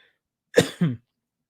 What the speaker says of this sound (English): I feel like cough coming on